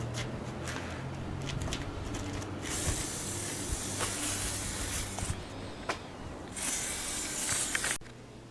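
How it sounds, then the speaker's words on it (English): A long steady hiss from a can of spray adhesive, with short gaps and clicks between bursts, heard up close with no talking, while building a box oven. "So this is the spray adhesive we used."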